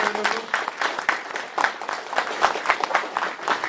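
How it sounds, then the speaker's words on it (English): An audience at an alumni negotiation panel event applauds the panel members, a dense, steady burst of many hands clapping that stays fairly loud throughout with a faint crowd murmur. "Please give a big applause to all the panel members."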